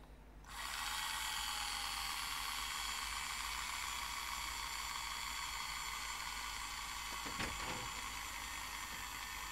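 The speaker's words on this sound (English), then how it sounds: "let's get a bit of scrap plastic and see if we can drill a hole in it" A small Tamiya electric handy drill whirs with a steady high-pitched motor whine after starting up, running continuously near and fairly quiet as it drills into scrap plastic, with a brief scraping bite partway through.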